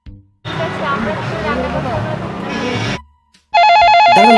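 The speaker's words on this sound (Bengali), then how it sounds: "ফোন এসছে" A telephone rings loudly alone near the end, a steady electronic tone that follows a stretch of loud indoor noise and a brief pause.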